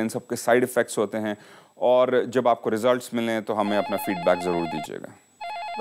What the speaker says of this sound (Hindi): फ़ोन की घंटी लगातार बज रही है।